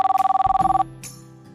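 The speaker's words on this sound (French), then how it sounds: "souvent le téléphone sonne comme 4-5 fois le matin" A telephone bell rings in a rapid trill for nearly a second and then stops, close and loud, followed by a few faint clicks and a short quiet tail.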